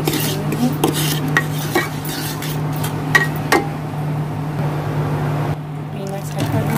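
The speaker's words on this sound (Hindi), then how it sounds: "शुगर पाउडर डाल देंगे, थोड़ा सा नमक ऐड कर देंगे इसके अंदर। सभी को अच्छे से मिक्स कर देंगे।" A spoon stirring poha mixed with powdered sugar and salt in a pot, giving scattered scrapes and clinks against the metal over a steady low hum while a person talks throughout.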